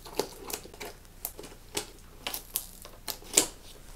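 Scissors or a blade cutting through plastic toy packaging for a Sylvanian Families Town Series play set, a string of short, crisp snips and clicks close up.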